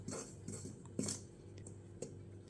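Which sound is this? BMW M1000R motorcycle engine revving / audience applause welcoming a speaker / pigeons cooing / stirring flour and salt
stirring flour and salt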